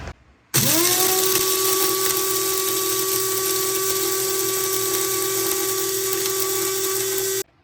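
An electric grinder grinds garam masala spices: the motor starts with a sharp rise in pitch, then holds a loud, steady high whine for about seven seconds before cutting off.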